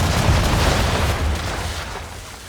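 Ship cannons fire a broadside in Assassin's Creed III Remastered, a loud rolling barrage of booms that blur into a continuous rumble, fading slightly toward the end.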